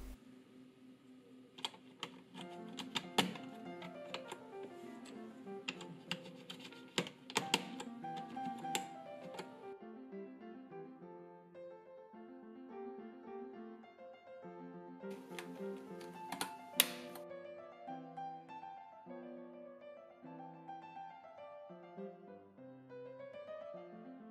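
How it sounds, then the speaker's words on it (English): Keycaps are pressed back one by one onto a cleaned Apple A1048 keyboard, making a series of light plastic clicks and taps in irregular clusters over soft background music. "so I start putting them back in their place one by one"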